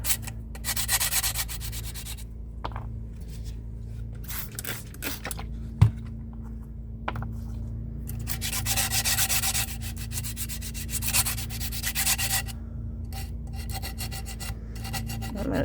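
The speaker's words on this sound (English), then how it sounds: "I'm going to sand this down a little bit to try to get that bubble not quite as" A cured resin tray being sanded, with scratchy rubbing strokes in bursts over a low steady hum and one sharp knock partway through; no speech.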